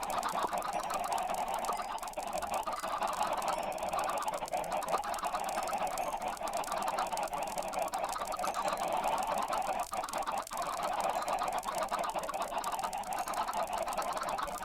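Chickens in the Minecraft video game cluck over a dense, continuous in-game background, with repeated clucks scattered throughout at moderate volume and no voices.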